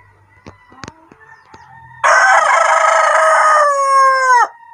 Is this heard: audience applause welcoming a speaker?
no